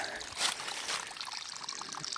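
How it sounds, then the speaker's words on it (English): A small mountain stream in the Smokies running low in a dry spell, trickling and splashing steadily nearby, with a couple of brighter splashy bursts early on over a continuous watery hiss. "this is the only running water."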